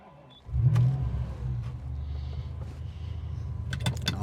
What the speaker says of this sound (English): here we are for our cold start